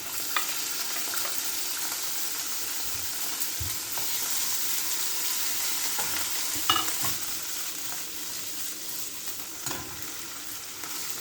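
Swordfish pieces browning in a pan for a Sicilian pasta with aubergine give a soft, continuous sizzle, broken by occasional clinks and scrapes of stirring, with no talking.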